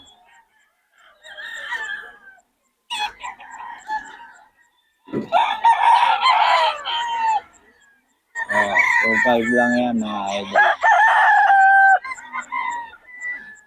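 Chickens cluck and roosters crow loudly nearby at a poultry market in Bocaue, overlapping at times, while someone speaks briefly in between.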